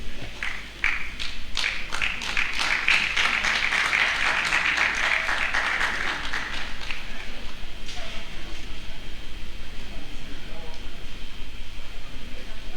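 Clapping from the audience at a commemorative lecture book launch, a steady patter of many hands that swells and then thins, with some voices mixed in.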